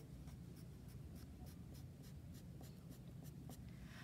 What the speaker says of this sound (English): So I'm going to just draw some little lines.